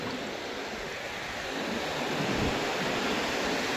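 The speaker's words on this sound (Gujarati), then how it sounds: "આખો દરિયો છે મિત્રો જોઈ શકો તો પાણી આવે છે બહાટી" Sea waves wash steadily onto a shore where prawns are being caught, giving a continuous broad surf rush that swells slightly louder toward the end with no voices.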